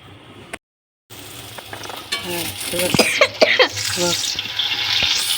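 Taro stolons frying in oil tempered with black cumin sizzle steadily while being stirred, with clattering stir strokes over the hiss and someone talking at times.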